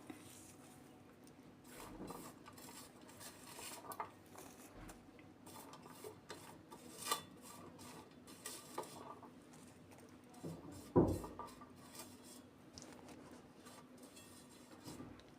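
Soft rubbing and rasping of hands mixing chopped coriander and curry leaves together in a bowl, faint irregular scrapes and pats continuing throughout with a few louder brushes.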